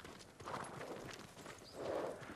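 Horse hooves clip-clopping at a walk in the feudal Japan open-world game Ghost of Tsushima, a steady soft rhythm of footfalls over low ambient background, moderately quiet and heard alone.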